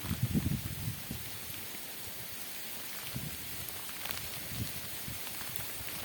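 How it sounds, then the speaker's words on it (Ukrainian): Ice pellets of frozen rain fall outdoors in a fine, continuous patter that sounds close and steady, with a few heavier rustling thumps near the start and no talking. "Прямо льот падає."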